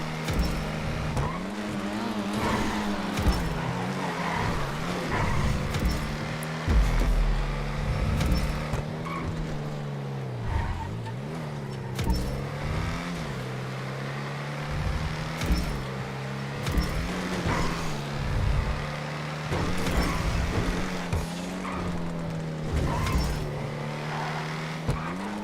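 A Jester sports car in the GTA Los Santos Tuners racing game holds a steady engine drone with rising and dipping revs through gear changes, over continuous tire and road noise.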